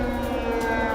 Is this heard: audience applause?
no